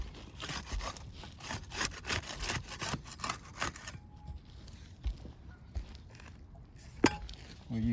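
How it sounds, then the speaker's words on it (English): A putty knife is worked under roof shingles to unseal them, giving a fast run of close scraping strokes that stop halfway through, followed by quieter, scattered scrapes and a sharp tap near the end. "We use the putty knife to unseal the top shingles."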